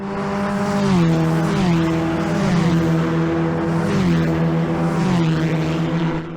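500cc race cars pass close on the Kirkistown racetrack, engines screaming loud with rising and falling harmonic pitch as several cars go by in succession.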